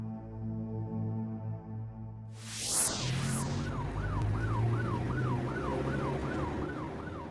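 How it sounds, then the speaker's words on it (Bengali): An ambulance siren sweeps in with a rising whoop, then settles into a steady, rapidly wailing up-and-down tone over a low vehicle rumble on a rough road, loud and close throughout with no talking. "দেখেছিস, অ্যাম্বুলেন্সও যেতে পারছে না।"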